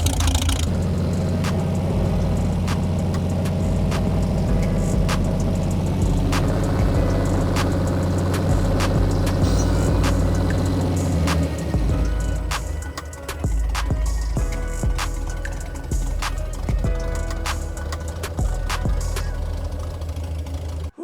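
A Kraftwerks Porsche 917 replica race car engine idles while being tuned, running rich, a loud steady low rumble throughout with some knocking and mechanical clatter, no speech.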